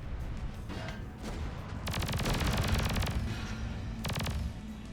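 Gunfire in a video game: bursts of rapid shots crackle over a low rumbling backdrop, one long volley in the middle and a shorter burst near the end, loud and close.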